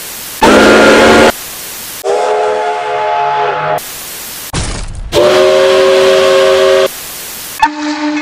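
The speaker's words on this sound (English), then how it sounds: "Steam engines have whistles that sound like this." Several loud blasts of the steam whistle on Pere Marquette 1225 locomotive, chime tones sounding in separate long bursts with hissy steam, each cut off sharply, close and clear.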